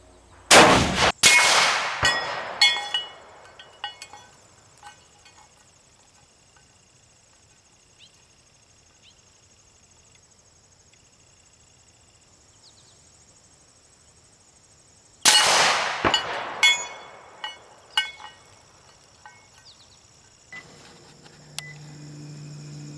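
Two loud metallic clangs, about fifteen seconds apart, as .338 Lapua or .45-70 rifle rounds strike a steel plate in a penetration test, each sharp impact ringing on and decaying, with faint outdoor background between.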